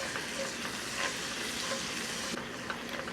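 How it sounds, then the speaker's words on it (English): Garlic and flour stirred in butter in a hot cast iron skillet: a steady, close sizzle and frying hiss runs throughout, with a faint scrape of stirring and no talk. "Keep stirring, allow the flour to cook and toast."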